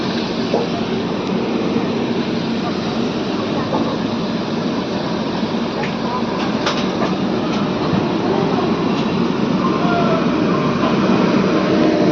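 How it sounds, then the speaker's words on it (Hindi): Lucknow Chhapra Express pulling into Shahganj Junction, with a loud, close, continuous rumble of rolling wheels and carriages and a few faint rail clicks throughout. "हमारा जो अराइवल हो रहा है शाहगंज जंक्शन पे"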